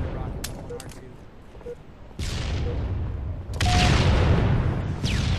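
Gunshots in Halo multiplayer capture the flag on the Narrows map, a few sharp cracks followed by louder sustained bursts of rapid gunfire.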